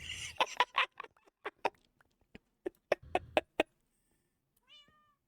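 A Minecraft cat meows in a quick series of short, quiet calls, some bunched close together and others spaced apart, followed by a faint chirping trill at the end.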